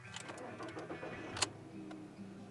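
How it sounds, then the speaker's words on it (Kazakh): Volkswagen Polo sedan engine heard from inside the cabin, a steady low idle hum running throughout with a brief click partway through. "Салонға қалай естіледі двигатель."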